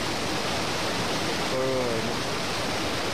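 A strong, high river current rushes in a steady, broadband roar, close and loud throughout, with a faint voice briefly audible beneath it.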